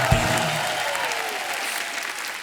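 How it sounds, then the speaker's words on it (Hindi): Loud studio audience applause on a Hindi comedy talk show, a burst of clapping that starts strongly and gradually tapers over a couple of seconds, with a faint voice briefly audible beneath it. "जोरदार तालियां हो जाएं।"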